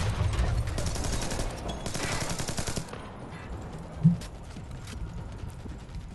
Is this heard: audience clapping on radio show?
no